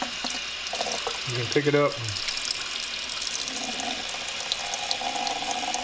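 Venison sausage casings are rinsed under a running kitchen tap. The water makes a steady hiss throughout, and someone speaks briefly over it.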